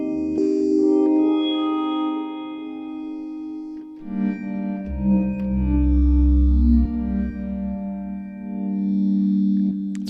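A Hydrasynth synthesizer patch with a melancholy tone plays a sustained chord that shifts into deeper, fuller notes, soaked in effects such as chorus, distortion and echo, with no voices.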